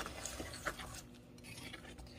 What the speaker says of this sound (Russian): Сейчас главное все хорошо перемешать